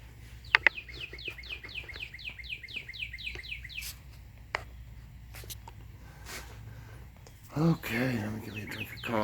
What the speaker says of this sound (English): Bird's happy.